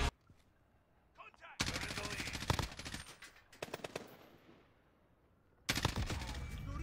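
A machine gun fires in Call of Duty: Modern Warfare, with two long sustained bursts of rapid, loud automatic fire separated by a pause and a shorter broken burst, then another burst starting at the end.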